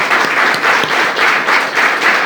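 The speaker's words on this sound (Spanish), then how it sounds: "Si quieren dar un aplauso al Señor y decir gracias" A church congregation applauds steadily, a dense, continuous wash of many hands clapping at full volume with no speech over it.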